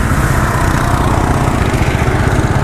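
A motorcycle engine runs at low speed, a steady, close, unbroken rumble with a rough low-end throb and no voices over it.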